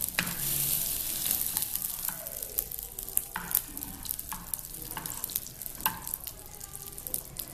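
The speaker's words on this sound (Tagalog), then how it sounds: "Then, in a pan, we put the butter." Butter melting in a pan before garlic goes in for garlic cheddar chicken, giving a soft, steady sizzle with scattered faint pops and crackles, fairly quiet and close.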